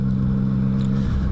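A 2016 Yamaha MT-09 motorcycle is ridden with its engine droning in a steady, loud, low hum that holds even throughout a brief stretch.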